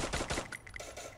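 Rapid bursts of gunfire in quick succession in the video game Free Fire, loud and close, with sharp repeated cracks fading into a few scattered shots.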